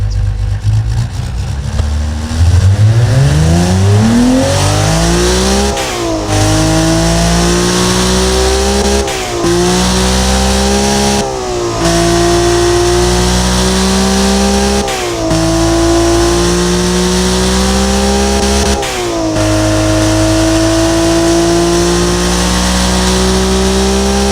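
A loud Mercedes-Benz M104 2.8L engine in the Automation video game revs up repeatedly, its pitch climbing through the gears before dropping and rising again, with brief pauses between shifts.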